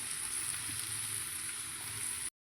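Curry leaves sizzling in hot oil with ivy gourd, a steady close frying hiss that runs evenly and then cuts off abruptly.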